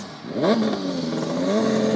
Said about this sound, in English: I have the Munich car here right in front of me, making quite a bit of noise